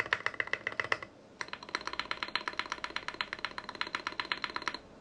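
Rapid clacking keystrokes on a custom mechanical keyboard prototype come in a quick typing burst, a short pause, then a longer steady run of crisp, close clicks with no talking.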